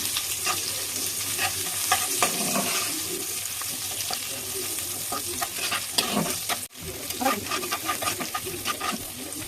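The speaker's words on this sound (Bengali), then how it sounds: "শুকনা মরিচ, একটা রসুন ভালোভাবে ভেজে নেব।" Dried chilli and garlic fry in hot oil in a pan, giving a steady, close sizzle with repeated scraping stirs throughout, briefly cutting out once near the end.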